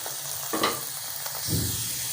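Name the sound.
aloo paratha frying in Dalda ghee on a pan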